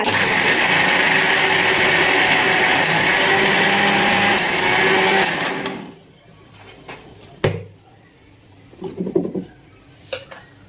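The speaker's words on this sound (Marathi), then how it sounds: "आता आपलं मिश्रण मिक्सरला" A mixer grinder roars loudly and steadily, blending a coriander, garlic and cumin spice mixture for stuffed bitter gourd, then cuts off abruptly, followed by a few clunks and rattles of the jar.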